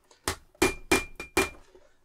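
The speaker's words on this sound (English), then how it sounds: "Then I go over with my rounded end, a ball pane end of the hammer." The rounded ball-peen end of a hammer taps leather while a compact tool bag is being made. Five crisp, close knocks come in an uneven rhythm over quiet surroundings.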